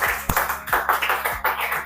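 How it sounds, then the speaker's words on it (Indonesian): Scattered classroom clapping from a small group of students during a teaching practice lesson, about a dozen uneven claps heard close and moderately loud, with faint background hum. "Tepuk tangan."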